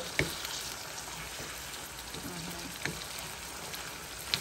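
Chicken adobo with garlic and onion sizzling steadily in a pan as it cooks down dry, a soft continuous crackle with a few sharper pops.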